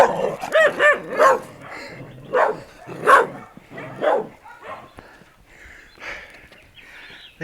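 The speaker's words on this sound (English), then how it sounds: "Quit fucking barking." Several dogs bark in loud, overlapping bursts up close on a walk in Grenada, with yips mixed in, then the barking fades to a quieter, more distant stretch.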